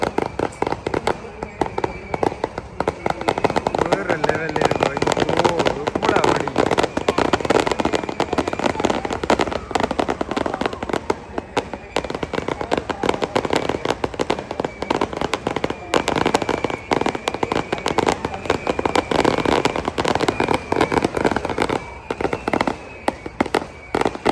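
Dense firecrackers and fireworks burst continuously at a large festival in Jaffna, a loud crackling barrage of rapid pops and bangs with shouting crowd voices mixed in throughout.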